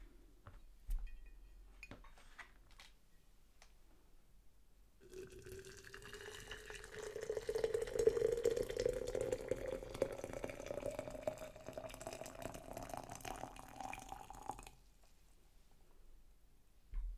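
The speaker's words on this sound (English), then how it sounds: "Freshly boiled water." Freshly boiled water is poured into a cup, a close, quiet stream whose tone rises steadily as the vessel fills over about ten seconds, framed by small clinks and soft handling sounds in a hushed room.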